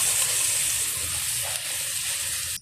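Chicken oil spits and sizzles steadily in a hot pan over a strong flame, a close, continuous hiss with no talking.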